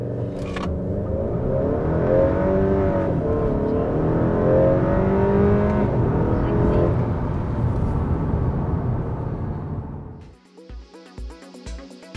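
A tuned 10th-gen car on an ethanol Stage 4 tune accelerates hard in second gear, its engine note climbing loud and close for about ten seconds before cutting off abruptly to a few mechanical clicks and rattles.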